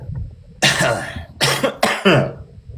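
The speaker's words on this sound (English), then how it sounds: "I am starting to get a cough" Several harsh coughs in quick succession, close and loud, with brief pauses between bursts.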